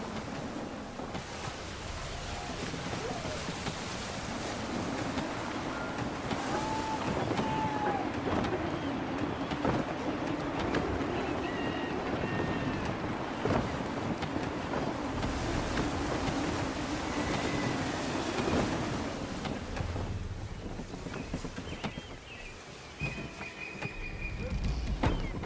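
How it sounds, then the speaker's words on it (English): Gusty wind sweeps over a sailing ship at sea in Assassin's Creed III, a steady broad rush with surf and water beneath it, holding fairly even throughout with faint higher tones drifting through. "Wind looks to be shifting. Stay alert, Connor. Gusty winds can be difficult to manage."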